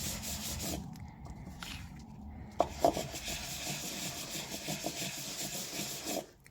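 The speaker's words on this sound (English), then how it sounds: "I think I get a better effect if I sand in circles." Two-tone cardstock being sanded in circles, a soft continuous rubbing scratch with gentle rhythmic swells and a couple of small clicks, close and quiet.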